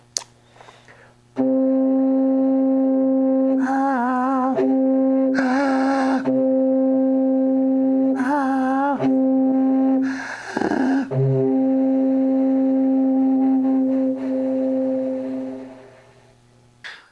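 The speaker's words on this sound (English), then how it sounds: "play a C on the contrabass flute and then seamlessly transition between playing and singing the same note while inhaling" A low, steady contrabass flute tone holds one C for a long stretch, the player singing the same note while inhaling, wavering, breathy vocal-like passages blending in and out, alone and close.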